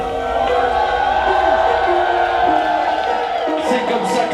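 A wrestling crowd cheers and applauds a champion at La Grande Bagarre: a steady wash of distant cheering and whoops under continuous commentator talk.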